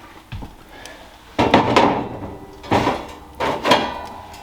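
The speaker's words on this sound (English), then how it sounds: "Take the door off." Door of a wood-fired oven lifted off and set down, heard as three close scraping clunks with a gritty drag between them after a faint knock at the start.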